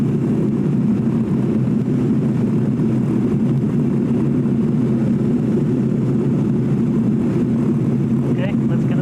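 A motor glider's engine drones steadily and loudly in the cockpit with the throttle fully closed, a continuous low rumble with no breaks throughout.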